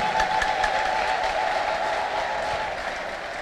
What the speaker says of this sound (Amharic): በልልታ በጭብጨባ በልልታ በጭብጨባ